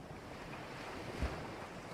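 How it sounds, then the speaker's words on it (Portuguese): Ocean waves wash steadily onto a deserted sandy beach in Bahia, Brazil, a constant broadband surf with wind noise over the microphone and a soft low thump near the middle; no voices. "O som constante das ondas e uma paz que parece cada vez mais rara encontrar."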